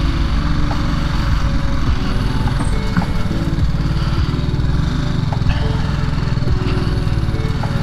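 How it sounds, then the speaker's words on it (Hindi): A motorbike crosses the Kemmannu hanging bridge in Udupi, Karnataka, its small engine buzzing steadily and close throughout, with faint clatter from the bridge deck and no clear talk. "बाइक लेके जाते हैं यहाँ से।"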